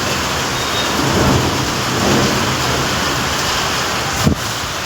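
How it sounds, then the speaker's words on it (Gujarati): Heavy rain pours steadily outside a village temple near Bareja, with rumbling thunder beneath the downpour and a louder burst near the end; no voices are heard. "અત્યારે વરસાદ બહુ ચાલુ રહ્યો છે"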